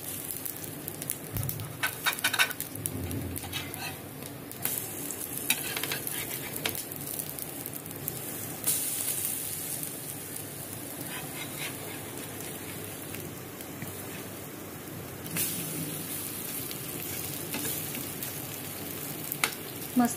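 Bread slices toast in a pan over low gas, giving a soft, continuous sizzle close by, with occasional light clinks and scrapes and no talking.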